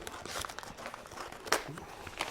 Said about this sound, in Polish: Więc e, otwieramy nożyczkami.